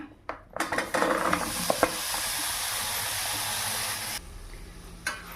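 Cut bananas are stirred in a hot pan: a few clinks of a utensil against the pan, then a bright, close sizzle with scraping, which drops away abruptly near the end.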